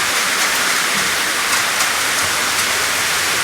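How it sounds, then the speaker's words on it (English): Rainwater runs steadily off a school bus and down a wall into a drain, a constant hissing wash of falling water, close and moderately loud with no voices. "any water comes down here will hit this and run straight down the wall into the drain"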